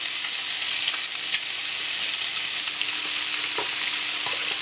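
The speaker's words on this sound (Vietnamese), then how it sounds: "Rồi mình chiên trong vòng 2 phút." Eggs sizzling and crackling in hot oil over high heat, a steady bright hiss with occasional pops, close and alone without talk.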